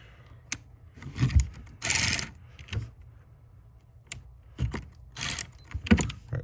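Socket wrench unbolting the tail light housing on a Hyundai Sonata, irregular bursts of ratcheting clicks and metallic rattles close by, separated by short pauses.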